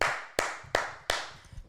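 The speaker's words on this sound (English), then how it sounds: "well, first of all, let's clap" Hands clap four times at an even, unhurried pace, each clap sharp and close with a short decay, and a faint softer tap at the end.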